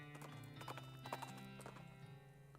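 Horse hooves clip-clopping at a steady riding pace in West of Loathing, a close, quiet rhythmic trot of repeated hollow knocks.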